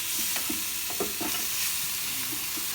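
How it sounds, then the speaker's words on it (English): Beef short ribs sear in a Ninja Foodi Grill with a loud, steady sizzle and crackle, plus a few clinks and scrapes as the meat is placed and moved. No one speaks. "Sizzle, sizzle."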